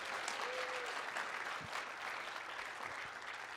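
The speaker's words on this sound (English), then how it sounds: "Applaud him." Audience applause for David Rees, seated in the crowd at a live talk event in Los Angeles, a continuous wash of clapping at moderate distance, fairly quiet and even, with faint murmurs.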